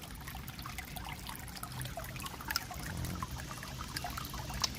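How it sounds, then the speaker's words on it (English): Water babbles steadily along a woodland stream on a hike, a faint, continuous trickle and gurgle with occasional small splashes and no talking. "We got some babbling going on"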